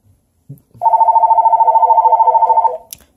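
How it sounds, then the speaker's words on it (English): Two telephones ring together for an incoming call to a home phone line set up through an OBi200 adapter with Google Voice, a loud, close, rapidly trilling electronic ring lasting about two seconds, with faint knocks before and after. "So both phones are ringing."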